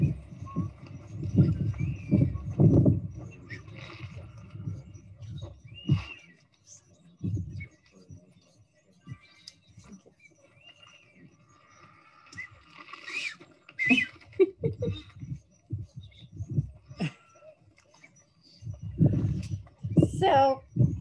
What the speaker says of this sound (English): I'm gonna let you listen to what these birds sound like.